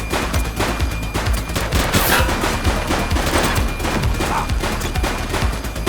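A suspect opens fire in the police video game The Precinct: a loud, dense volley of gunshots with sharp cracks and crashing impacts, sustained without a break.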